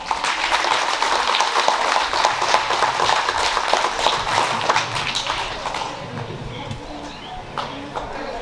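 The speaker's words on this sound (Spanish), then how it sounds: "fuerte el aplauso" Audience applause at a 69th anniversary community celebration in La Concha, El Naranjo, San Luis Potosí: dense, steady clapping from a sizable crowd that holds loud for several seconds, then thins and fades toward the end.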